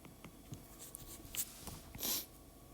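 Chalk or marker writing on a board during a mathematics lecture on Galois theory, heard as a few short, close scratchy strokes.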